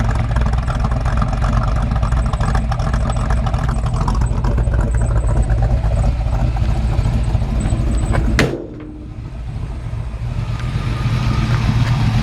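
The engine and exhaust of a 1952 Chevrolet 3100 pickup rumble loudly and close in a steady low drone, then dip sharply around the eighth second before building back up to a strong, throaty run, with no speech.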